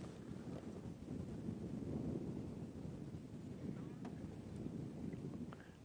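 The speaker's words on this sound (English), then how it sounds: "And you can see how windy it is." Strong wind buffets the microphone in a continuous low roar on a sunrise safari drive, steady and fairly close, with no clear speech.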